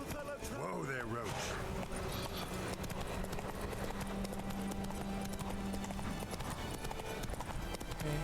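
Roach, a horse in the video game The Witcher 3: Wild Hunt, gallops with steady, rhythmic hoof clip-clops over game music, a voice speaking early on, with a brief whinny near the start.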